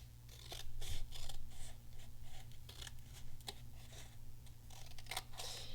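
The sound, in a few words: scissors cutting paper pieces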